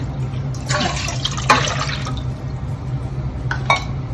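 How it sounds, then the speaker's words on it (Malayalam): Water pours from a cup into a copper pot, 750 ml in a few separate splashy bursts over a low steady hum, with drips between pours. "അതിലേക്ക് ഞാനിപ്പോ 3 കപ്പ്, അതായത് 750 ml വെള്ളാട്ട് വെക്കുന്ന"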